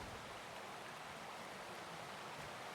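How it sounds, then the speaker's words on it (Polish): A waterfall in the video game Dying Light: The Beast, a steady, dense rushing roar with no pauses, moderately quiet and heard alone. "jest wodospad. Przecież coś będzie pod tym wodospadem"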